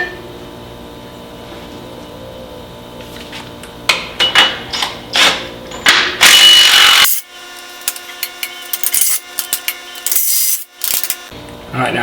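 An impact wrench loosens hardware on a Dana 44 axle from a 1972 IH Scout II in a workshop: a quiet start, then loud rattling bursts of varying length, with short hammering pulses near the end.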